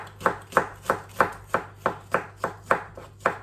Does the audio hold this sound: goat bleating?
no